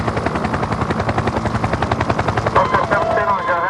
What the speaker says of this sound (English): Today's helicopters can travel at great speed and are very useful in the pursuit of stolen vehicles.